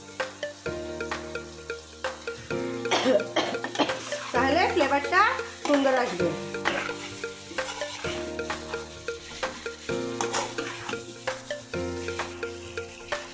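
Meat sizzling in a pan while a spoon stirs and scrapes through it, with steady background music playing throughout.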